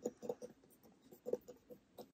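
Fingertips tapping on a box, soft close patters in irregular quick bursts with brief pauses, quiet and intimate with no voices.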